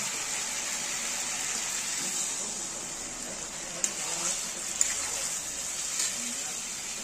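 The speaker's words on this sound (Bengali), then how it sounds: "এখানে আমরা আন্দাজ করে জলটা দিয়ে দেবো।" Water poured into a pan while cooking chilli chicken, a steady soft hiss of running liquid throughout with a few faint clinks near the middle.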